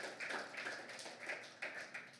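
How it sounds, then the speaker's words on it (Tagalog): A church congregation applauds, a soft, continuous patter of many hands clapping together in waves, heard from some distance and fairly faint, with no talking over it. "Sige po, malakas sa palakpak para sa Diyos."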